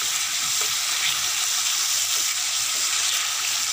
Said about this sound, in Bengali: আমি ভালো করে কষাচ্ছি